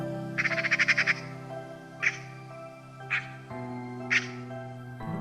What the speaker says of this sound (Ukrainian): Он із різким криком пролетіла чорно-біла сорока.